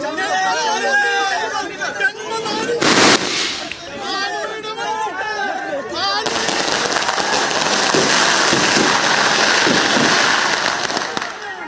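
Fans set off firecrackers to welcome actor Dileep home from court: a sharp burst of crackling pops near the three-second mark, then a long, dense, loud string of rapid bangs amid crowd chatter and shouting.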